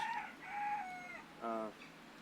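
Nearby chickens on a farm cluck and call in a short burst of a few tonal squawks, fairly loud against a quiet background.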